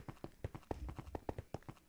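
Horse hooves clip-clop in a video game, a quick, even run of sharp hoof strikes at a steady trotting rhythm, fairly quiet and heard alone.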